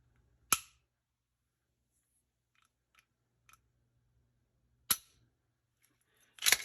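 A Glock fitted with a Timney trigger is dry-fired, giving sharp, crisp clicks as the trigger breaks: three distinct snaps spaced seconds apart in near silence, with faint small ticks between them.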